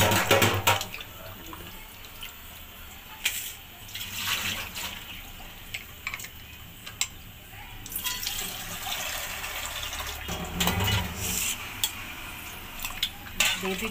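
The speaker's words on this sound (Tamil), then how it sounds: "இது நல்லா ரன்னிங் வாட்டரில் நல்லா வாஷ் பண்ணணும்." Leafy greens being rinsed under a running kitchen tap for a child's soup, with a steady wash of flowing water, splashing, and occasional clinks of a vessel or utensil, close up with no talk.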